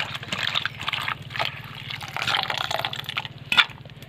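Water splashing and trickling as drumstick flowers are washed for village-style fritters, a soft, continuous sloshing with small drips and one sharper splash near the end, fairly quiet and close.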